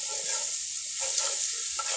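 Chicken pieces with garlic sizzle and fry in a large pot, a steady bright hiss with short stirring scrapes layered over it, close and continuous without talk.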